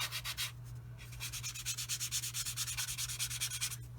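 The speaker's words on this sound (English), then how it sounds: "I'm just putting some water on here and doing a wet dry kind of sanding job." Wet-dry sanding of a primed 1/48 Tamiya F-51D Mustang model plane with water: rhythmic back-and-forth scratchy rubbing strokes, close and steady, with a low hum underneath and no talking.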